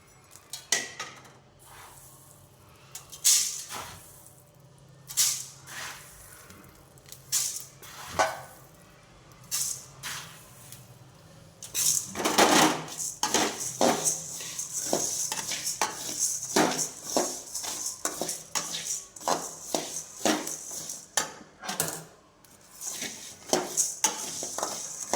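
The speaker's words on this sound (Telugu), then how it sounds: "ధనియాలు పోసుకొని వేసుకుంటాను." Coriander seeds poured into a metal pan and dry-roasted, a dense patter and rattle of small seeds with scraping of a utensil against the pan, busy and close, growing fuller and more continuous partway through.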